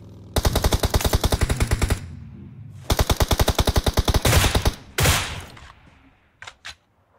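Rapid automatic gunfire in the mobile battle-royale game BGMI, two long close bursts of rhythmic shots separated by a short gap, followed by a few scattered single shots and brief clicks fading toward the end.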